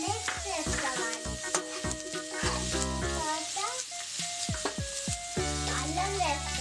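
Cashews and onions frying in a pan, stirred by kids making masala butter paneer, produce a steady sizzle and stirring under prominent background music.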